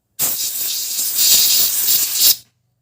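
Cleaner sprayed onto a motorcycle engine part during an oil change, a steady close hiss lasting about two seconds with no talk over it.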